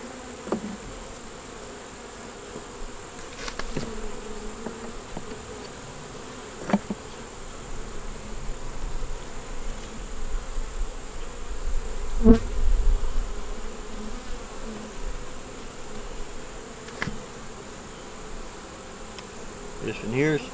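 Honey bees drone steadily around a frame lifted from an opened nuc hive, a dense and continuous buzz that stays close throughout, with a few sharper knocks and taps from handling the hive.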